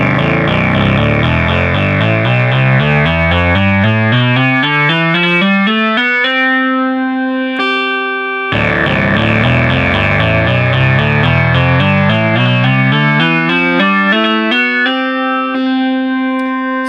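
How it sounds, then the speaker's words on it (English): Minimoog synthesizer oscillators driven by a Synthesizers.com modular build play descending arpeggiated note patterns, then settle into sustained chords, with a brief cut before the sequence repeats; loud, bright and continuous, with no voices. "We flip this switch and now we've got the Minimoog."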